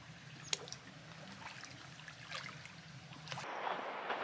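Water trickles and dribbles steadily at a trail water source along the Pacific Crest Trail, a soft continuous flow with a few brief splashes, growing slightly fuller near the end; no one speaks.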